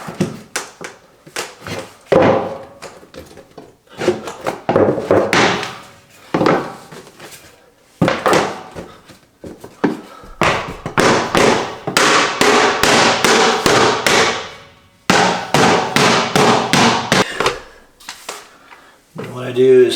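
A striker taps repeatedly along the edges of a Lifeproof vinyl plank stair nose to seat it on a wooden tread, giving sharp, close knocks in uneven bursts, with talking between strikes.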